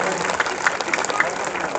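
A crowd claps at the consecration of an Anjaneya Swamy idol in a colony in Penuballi: a dense, loud patter of many hands with sharper individual claps, under a voice.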